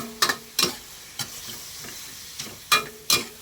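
Shrimp stir-fried with holy basil (pad kaprao): a soft background sizzle broken by a handful of sharp, separate scrapes and clatters of a spatula in the pan, close and fairly loud.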